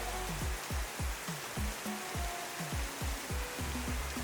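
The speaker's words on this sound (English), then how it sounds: "here comes the rain" Rain falls steadily during an outdoor Caribbean modeling competition challenge, a constant broadband hiss with a repeating low, pulsing rhythm underneath throughout.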